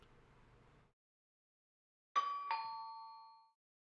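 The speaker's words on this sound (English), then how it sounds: "The bell sounds." A two-tone doorbell chime in the Kagetsu Tohya video game, a ding-dong ringing clearly in a quiet room and then ringing out with a slowly fading tail, after brief low background noise.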